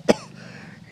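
A single short, sharp cough from an elderly man, close and fairly loud, followed by quiet room tone.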